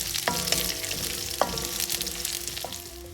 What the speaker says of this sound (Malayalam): വെളുത്തുള്ളിയും ഇഞ്ചിയും നന്നായിട്ട് വഴന്നു.